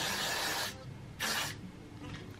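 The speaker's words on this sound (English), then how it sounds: "I take my Got To Be spray and spray it." Two quick hissing bursts of Got To Be hair spray, a longer spray followed by a short one, close by with a quiet pause between.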